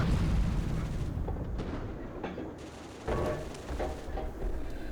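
A StuG III assault gun fires its main gun in the Steel Fury tank game, with deep booming blasts and rumbling reverberation over a constant engine drone.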